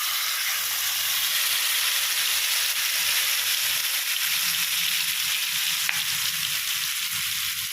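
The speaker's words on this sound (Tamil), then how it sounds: "கொஞ்சம் நல்லா பக்குவமாக நல்லா மீடியமான தீயில் வச்சு நம்ம அழகாக வறுக்கணும்" Masala-marinated seer fish fries in a pan over medium heat, giving a steady, close, continuous sizzle and hiss with no talking.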